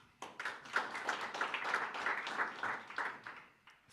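A small gathering at an Icelandic horse team meeting claps for a named rider, a short, fairly quiet round of applause that starts abruptly and fades out.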